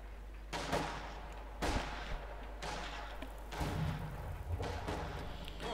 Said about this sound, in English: Heavy mortar firing.